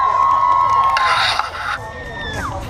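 Children at a camp costume contest cheer and shout loudly together in a brief burst of crowd noise, mixed with a whistling tone and some voices over the top.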